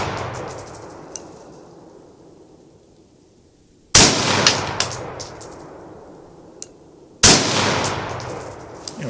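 Two loud, sharp rifle shots fired at a 100-yard target about three seconds apart, each ringing out in a decaying echo across an open outdoor range.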